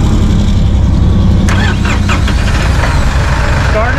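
A Massey Ferguson 1M/2M eHydrostat compact tractor diesel runs loud and close, a steady low engine drone throughout with a few light mechanical clicks partway through.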